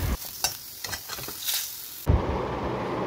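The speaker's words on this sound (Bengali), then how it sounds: "আর এইবারে একটু বেগুন ভাজা করছি" Halved eggplant slices fry in hot oil in a pan, a close hiss with light scraping, then a sudden louder burst of sizzle near the end.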